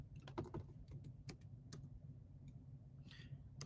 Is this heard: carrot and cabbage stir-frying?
no